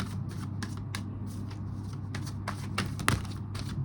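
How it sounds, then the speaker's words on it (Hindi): Tarot cards are shuffled and handled in a run of quick, crisp riffling bursts over a low steady hum, with a sharper flick of cards near the end and no talking. "थोड़े और कार्ड्स लेंगे हम।"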